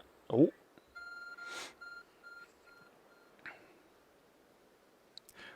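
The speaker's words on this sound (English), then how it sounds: "There's a glowing beeping object over there." Quiet electronic beeps from a glowing object in Pokémon Legends: Arceus repeat in a soft, evenly spaced pattern, with a few brief whispery noises and clicks around them.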